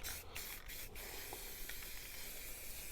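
Spray can applying light misty coats of paint to a rifle, a steady faint hiss broken by a few brief gaps.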